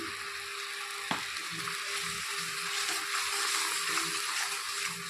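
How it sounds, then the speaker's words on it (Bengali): Spice mix of turmeric, coriander powder and salt frying in a pan, a steady close sizzle with soft stirring scrapes and one sharp clink of a utensil early on. "এখন একটু কষিয়ে নেব তো সব কিছু মশলা ভাজা হয়ে গেছে"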